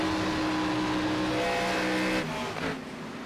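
Several race cars dueling for the lead at Darlington, engines droning loud and steady with layered tonal whines, the pitch dipping slightly as the pack sweeps past near the end.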